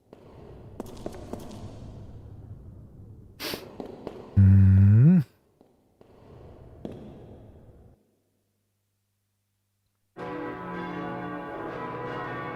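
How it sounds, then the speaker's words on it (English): A bell tolls in the gothic horror video game Koudelka, set around a church, ringing as a strong sustained tone amid quieter in-game ambience, followed later by a denser layer of sound. "What's that bell?"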